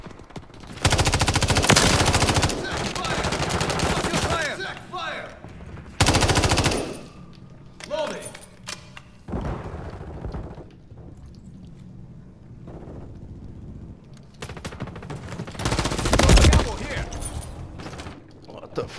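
Automatic weapon fire in the video game Call of Duty: Modern Warfare III beta on PS4, long loud rattling bursts broken by quieter stretches, with voices calling out in between.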